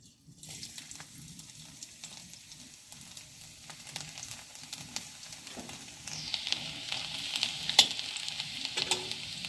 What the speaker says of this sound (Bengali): এখানে সর্ষের তেল দিলাম দিয়ে দিচ্ছি রসুন কুচি